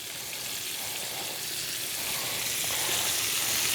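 Food sizzles and crackles in a hot pan, a steady hiss sprinkled with small pops, close and continuous with no talking.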